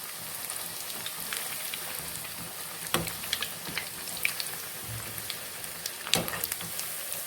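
Sago vadas fry in hot oil over a medium flame, giving a soft continuous crackle like light rain, with a few louder splashes and clicks as pieces are flipped one by one.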